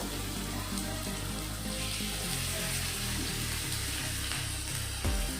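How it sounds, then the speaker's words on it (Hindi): Peshawari chapli kababs frying in hot oil in a pan, giving a steady, loud, close sizzle that runs the whole time, with a brief clatter near the end. "ये देखिए पैन में ना ऑयल हमने गरम कर लिया है। अब इस तरह ये सारे कबाब इसमें शामिल करते जाएंगे।"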